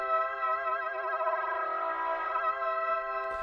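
A sustained synthesizer chord wavers with a gentle vibrato that swells and eases, ringing alone with a slightly processed, echoing tone.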